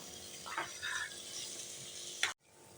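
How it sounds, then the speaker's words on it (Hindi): Spices fry in a pan on the stove with a soft, steady sizzle and faint stirring scrapes, fairly quiet, ending in a sudden drop to near-silence. "2 मिनट के लिए चूल्हे की आंच खोल कर आपने भूनना है"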